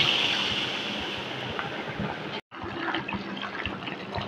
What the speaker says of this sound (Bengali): এর মধ্যে আমি বেসন দেওয়া জলটা পুরোটাই দিয়ে দিলাম